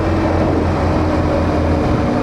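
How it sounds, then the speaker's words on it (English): A passing train in southern Africa gives a steady, loud low rumble with a constant drone and no break, and no voices can be heard. "A train."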